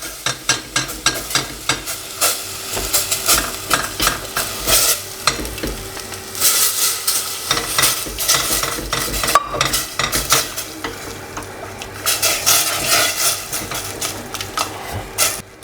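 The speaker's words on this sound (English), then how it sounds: "little by little, we're going to add the milk into the roux." Milk is added little by little to a roux to make bechamel for cauliflower cheese, and a whisk or spoon stirs and scrapes rhythmically against the pan. The clatter is close and continuous over a soft sizzle, with no voices.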